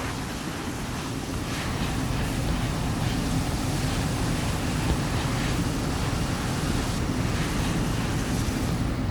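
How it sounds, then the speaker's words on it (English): Airbus airliner reverse thrusters roaring just after touchdown: a loud, steady broadband roar that fills the whole stretch without letup, with no talking. "You can hear the reverse thrusters kick on"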